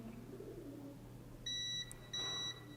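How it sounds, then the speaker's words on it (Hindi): A multimeter gives two sharp, steady electronic beeps during a continuity check on a coil and VDR circuit, each lasting about a third of a second, over a quiet hum. "ये ग्राउंड से दोनों तरफ बीप दे रहा है"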